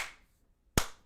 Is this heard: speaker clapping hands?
yes